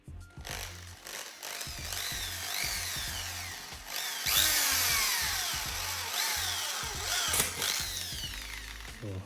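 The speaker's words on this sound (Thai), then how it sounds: "ใช้สว่านเจาะนะครับ สว่าน เจาะเข้าตามรูที่เรามาร์กไว้" A power drill whines in repeated bursts, pitch rising and falling as it drills holes through a metal pan, with rhythmic grinding pulses throughout.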